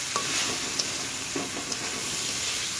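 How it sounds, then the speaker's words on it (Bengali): Potatoes frying in hot oil for a dal chorchori, a steady close sizzle with a few soft stirring scrapes, no voices. "আলুটা একেবারে ভাজার মতো করে আমি ভাজবো"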